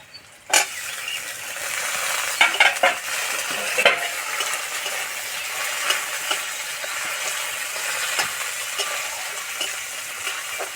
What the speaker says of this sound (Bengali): পেঁয়াজ ভাজা হয়ে গেছে এবার দেবো টমেটো কুচি